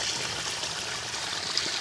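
Water running steadily through a solar-pumped drip irrigation pipe feeding a vineyard, pomegranate and sugarcane farm, a continuous soft rushing hiss with no pauses or voices.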